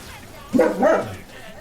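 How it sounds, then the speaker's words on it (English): A big German Shepherd gives a single short, deep bark at moderate distance, rising briefly above a faint, steady background. "Sounds like a big dog, actually. German Shepherd, I think, right?"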